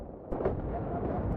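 Explosions in the PC game Battlefield 3 produce a dull, rumbling boom that swells after a brief lull and carries on as a heavy, sustained roar.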